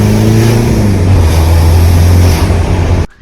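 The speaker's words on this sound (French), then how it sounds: "le turbo il siffle" A VW Golf 3 with a 1.9 TD turbodiesel accelerates, steady engine drone and a rising turbo whistle over it, loud and close, cutting off abruptly near the end.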